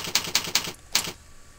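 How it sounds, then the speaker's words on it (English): Fingers type a web address on a keyboard: a quick, even run of crisp key clicks, then a single final tap before quiet, heard up close. "and this is where you would type"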